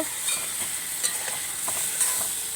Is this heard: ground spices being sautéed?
yes